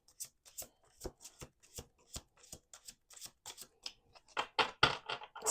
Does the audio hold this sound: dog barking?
no